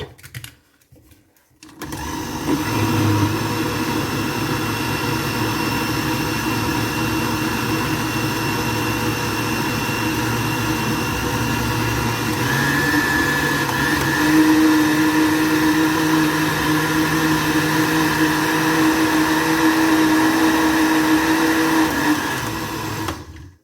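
Electric blender beating cake batter made with eggs, a loud continuous motor whir running steadily for over twenty seconds, rising slightly in pitch midway, with no talking.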